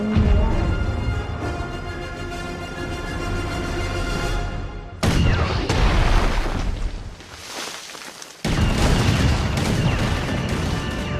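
Gunfire and artillery from the animated film Norm of the North, a sustained roar of heavy shots and booming blasts layered with music, with sharp cuts and a fresh loud barrage near the end.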